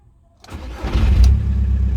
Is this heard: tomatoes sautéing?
no